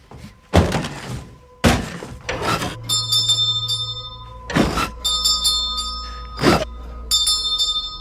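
Heavy thunks and clatter mixed with several bright rings of a rope-pulled bell that shimmer and ring out between the knocks, close and loud.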